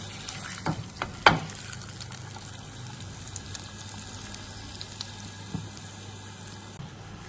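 A beef steak fries in a pan with a close, continuous sizzle and crackle, broken by a few clattering knocks of handling early on.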